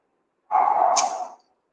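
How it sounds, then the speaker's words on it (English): A neighbor's dog lets out a single loud, strained bark or yelp close by, about one second long, with no talk. "It's my neighbor's dog actually."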